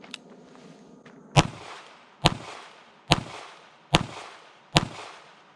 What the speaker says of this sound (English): I'm just pointing this gun and shooting